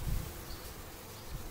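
Honey bees buzz steadily around a hive near smoke, a dense, continuous drone that stays fairly quiet throughout.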